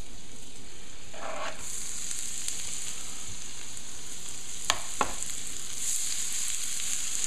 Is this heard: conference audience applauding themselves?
no